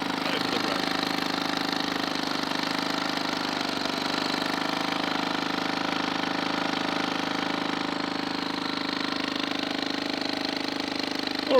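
A small Solex moped engine runs steadily at idle, a close, even mechanical drone holding constant throughout.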